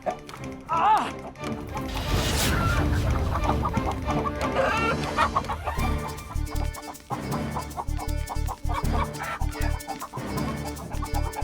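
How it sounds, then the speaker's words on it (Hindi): A chicken clucks repeatedly amid loud, excited voices and busy background sounds, up close and energetic. "हत्यारन मुर्गी हमारे पीछे पड़ गए"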